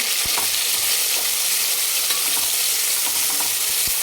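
A ginger, garlic and coriander paste sautés in a pan with a loud, dense, continuous sizzle. Occasional soft knocks from stirring sound beneath it, and no one speaks.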